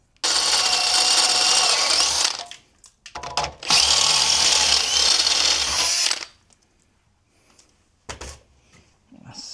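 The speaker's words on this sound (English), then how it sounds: "drill that hole" A power drill whirs loudly in two long bursts while drilling a hole for custom engine mounts on a Model A chassis, pausing briefly between them, followed by a few short clicks and quieter handling noises.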